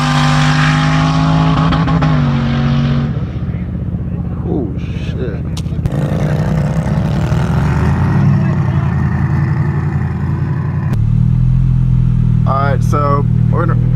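Turbocharged LS-swapped Mustang racing a newer nitrous-fed Mustang, its engine droning loud and close throughout with rising and falling revs and gear shifts, while people talk over it.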